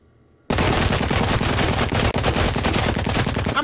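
Sustained automatic gunfire from the video game Blue Estate, a dense, loud, continuous stream of rapid shots that bursts in after a quiet start and runs almost without pause.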